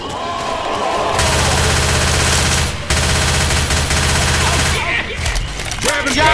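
Grenade launcher fire in the video game Left 4 Dead 2 during the Swamp Fever swamp level, a loud, nearly continuous barrage of rapid shots with a brief break midway before firing resumes.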